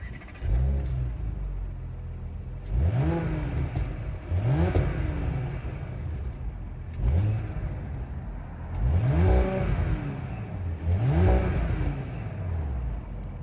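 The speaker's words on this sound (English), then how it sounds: "now I'm driving the A7 in comfort mode, which is the softest setting that you can get in this car." A 2021 Audi A7 drives in comfort mode, its engine rising and falling through several smooth acceleration sweeps over a constant road rumble, heard from inside the cabin with no talking.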